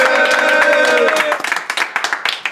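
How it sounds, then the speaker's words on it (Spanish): Applause at a Pokémon card game championship for a Spanish player, starting under a man's amplified announcement, then breaking into distinct scattered claps from a modest crowd nearby. "el segundo de la expedición española. Un aplauso también."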